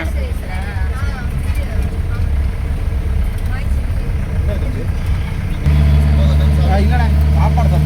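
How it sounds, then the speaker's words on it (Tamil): A steady engine rumble of vehicles travelling on a mountain road near Munnar, where many jeeps pass. The rumble grows louder and heavier after about five seconds, and voices can be heard over it. "எல்லாம் ஜீப்பு தான் நிறைய போயிட்டுருக்கு"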